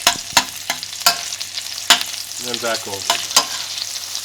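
Saltimbocca sizzling in butter with sage in a pan, a steady close frying hiss broken by sharp clacks and scrapes of a utensil moving the pieces, with a brief spoken aside.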